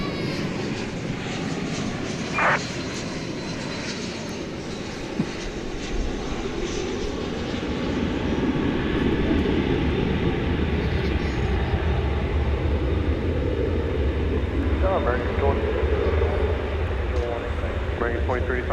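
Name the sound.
Airbus A321 touching down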